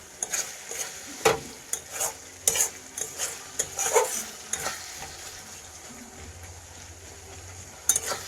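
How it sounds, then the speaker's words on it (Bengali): Masala and softened tomato stirred and fried in a pan for a Bengali rui fish curry, with repeated scraping stir strokes and light sizzling, close and moderately loud, no talk. "হালকা আছে মশলাটা কষতে হবে।"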